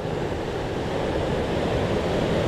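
Ocean waves wash onto a sandy beach at a shore fishing spot, a continuous, close surf roar mixed with gusty wind buffeting the microphone, with no voices.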